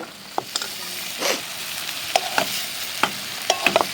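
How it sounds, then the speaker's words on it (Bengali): Meat being stirred and fried in a pan at a rooftop picnic, with a steady sizzle under scattered scraping knocks of the spoon against the pan, close and fairly loud, no talking. "অনবরত নেড়ে যাচ্ছি যাতে তলায় ধরে না যায়"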